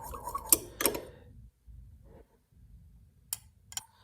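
A spoon stirs drops of colorant into a mixture for custom dropshot worms, giving a few sharp clinks against the container among soft scraping, close and fairly quiet with pauses.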